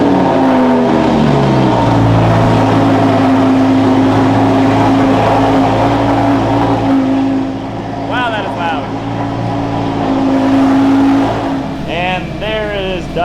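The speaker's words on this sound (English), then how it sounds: "Done with the cold start now." A Lamborghini Gallardo V10 cold-starting in a home garage and settling into a high, steady idle, loud and close, with faint brief voices near the end.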